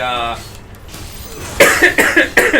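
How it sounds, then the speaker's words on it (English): A few harsh coughs burst out close and loud in quick succession after some quieter talking. "sorry about the coughing"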